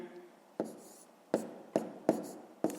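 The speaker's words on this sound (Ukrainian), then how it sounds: "Давайте я тут нижче напишу." Pen on paper while writing out a fifth-grade maths exercise, heard as soft scratching with several sharp taps spaced irregularly, close and quiet.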